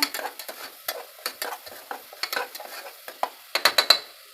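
Small shallots sautéing in a pan for a spicy mutton masala, with steady sizzling broken by repeated sharp scrapes and stirs of a spoon. The stirring grows quicker and louder near the end, and no one speaks.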